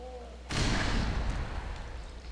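A grenade blast in the game Black Mesa bursts out suddenly as a loud, deep boom, then rolls into a decaying rumble with a faint voice underneath.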